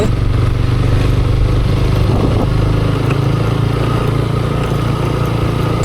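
A motorcycle engine drones steadily and loudly throughout, close by, with a constant rumbling hum as it rides through a mango orchard in Suwalak.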